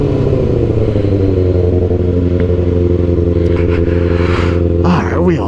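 Kawasaki ZX6R sport motorcycle riding at speed, its engine holding a loud, steady high-rpm drone with layered harmonics throughout, slight rev shifts near the end, and wind and road noise mixed in.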